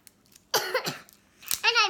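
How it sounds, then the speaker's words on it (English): A child's short cough bursts out once, close and sharp, followed by brief speech sounds and a higher voiced vocalization. "And I may cough throughout the video"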